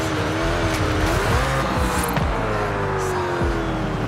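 A Koenigsegg Jesko drives off-road in a video game, its engine droning loud and near with rising and falling revs and occasional tire squeal, heard alone without talk.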